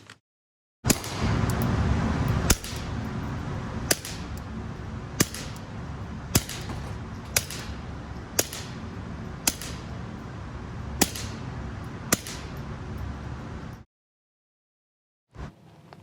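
A suppressed .22 caliber Ruger pistol fires about nine sharp, muffled shots at a fairly even pace during a shooting competition. The reports sound over steady background noise, and the stretch ends in near silence.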